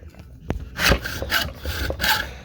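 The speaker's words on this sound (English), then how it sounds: "the first thing I'm going to do is just hacksaw the end off" Hacksaw cutting through the base of a Chosera 800 sharpening stone, a few rough rasping strokes with short pauses and a knock between them, close by.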